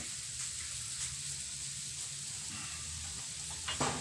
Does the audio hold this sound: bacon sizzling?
yes